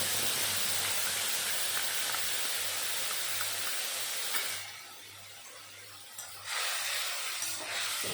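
Ground spice paste goes into hot oil with cumin seeds and bay leaf, giving a loud, steady hiss that suddenly drops to a softer sizzle partway through, then briefly flares up again.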